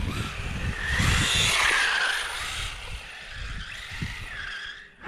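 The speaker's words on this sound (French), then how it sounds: "Le bruit des pneus c'est nickel." Tires of a Sworkz Fox RC car skid and squeal across a crowded parking lot, swelling into a long screech, then fading with several shorter scrubbing bursts and a final sharp rise.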